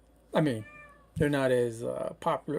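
A cat meowing indoors, a few short close mewing calls in quick succession mixed in with someone talking.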